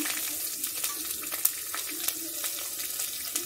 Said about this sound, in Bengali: দিয়ে দিচ্ছি 5 ফোড়ন, তেজপাতা, জিরা, কাঁচা লঙ্কা।